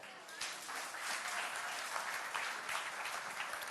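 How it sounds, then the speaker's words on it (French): An audience at a sports awards ceremony applauds steadily as a performer comes on stage for a Krav Maga demonstration, a dense, even wash of clapping from many hands. "Tostao sur scène sous vos applaudissements"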